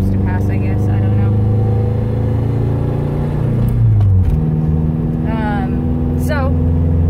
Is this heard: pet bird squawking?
no